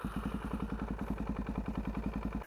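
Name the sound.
motorcycle engine started up briefly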